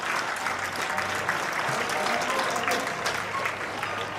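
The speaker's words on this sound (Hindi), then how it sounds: "एक बार जोरदार तालियां पोरवाल" Steady, dense audience applause at a school alumni meet in an assembly setting, with many hands clapping continuously at an even level throughout the short stretch.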